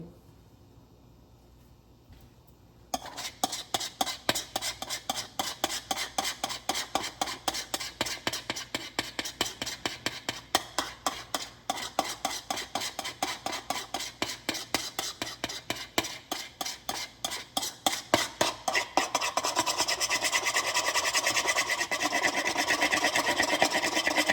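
A spatula scrapes homemade body butter out of a mixing container in fast, regular strokes, making a rhythmic rasping that starts after a short quiet pause and grows denser and brighter toward the end, close and steady.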